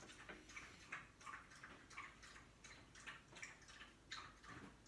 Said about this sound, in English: my dog is drinking water.